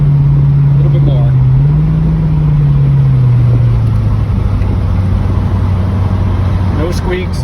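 A 1986 Corvette convertible pace car with about 9,000 miles pulls away under throttle, its steady low engine and exhaust drone holding throughout while a person talks over it.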